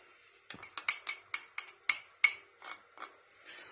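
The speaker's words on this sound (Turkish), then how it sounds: "etlerimiz 3 dakika piştikten sonra içine havuçlarımızı mantarlarımızı soya sosumuzu" A utensil stirs carrots, mushrooms and soy sauce into meat cooking in a pan, making a quick series of a dozen or so light scraping clicks over a faint sizzle.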